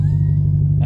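Straight-piped Jaguar XJ8 engine idling with a deep, steady, loud exhaust rumble, a brief blip near the end.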